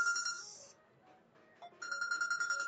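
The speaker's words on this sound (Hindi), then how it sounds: "यहाँ पर प्ले साउंड करोगे तो 5 मिनट तक फोन रिंग होगा।" A smartphone rings loudly from Google's remote Play Sound feature, an electronic ringtone that plays, pauses briefly with some quiet background, then resumes.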